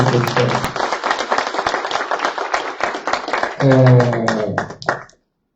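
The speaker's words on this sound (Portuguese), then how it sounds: "Gostaria de pedir uma salva de palmas para os candidatos." A small group at a discussion circle for ombudsman candidates claps in a brisk, uneven patter of close hand claps, fading as a voice begins speaking over the last stretch.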